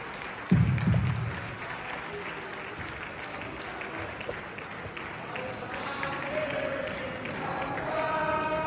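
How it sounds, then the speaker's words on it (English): Audience applause at a Nigerian political event, opening with a sharp burst of clapping that settles into sustained crowd applause, with a voice speaking over it toward the end. "A round of applause for him, ladies and gentlemen."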